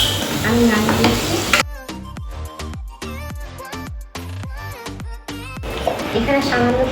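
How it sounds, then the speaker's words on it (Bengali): Black cumin seeds fry in hot oil in a home kitchen, a loud sizzle that drops away while someone talks over a quieter crackle, then rises again near the end. "এখানে সামান্য একটু কালো জিরে নিয়েছি, দিয়ে দিলাম তেলের মধ্যে। ফোড়নটা একটু ভেজে নেব।"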